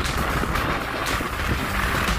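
Strong wind buffeting the microphone on a ferry at sea over a low engine rumble and rushing water, a loud, constant roar with no talking.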